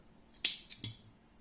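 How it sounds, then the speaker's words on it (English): Scissors snipping crochet yarn close up, two or three quick, sharp little clicks in under half a second, quiet and alone. "and cutting the yarn"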